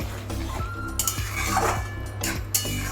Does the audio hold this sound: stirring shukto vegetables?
yes